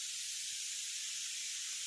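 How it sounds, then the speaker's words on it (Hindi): A pressure cooker whistle on a home kitchen gas stove, a loud continuous high steam hiss that holds steady without pause. "मेरे कुकर की सीटी आ गई"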